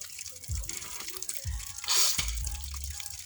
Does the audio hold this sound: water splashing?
yes